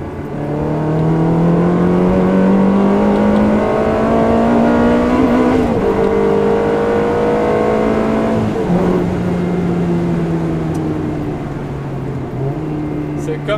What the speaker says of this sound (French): faire une petite accélération là.